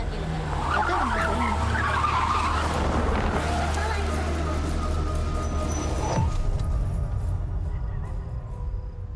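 Car tires skidding as a vehicle brakes hard to a stop, a loud squeal over engine rumble that cuts off sharply, with voices and background noise around it.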